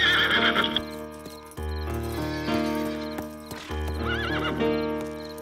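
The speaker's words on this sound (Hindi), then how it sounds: "और जाओ मेरा घोड़ा लेकर आओ।" A horse whinnies loudly several times with shrill, rising calls, while steady clip-clopping hooves and a swelling musical score run underneath throughout.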